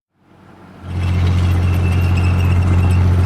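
A car engine starts up and then idles steadily in a small-town downtown square, a low rumbling drone that steps up in loudness after a moment and holds close and continuous, with no talking.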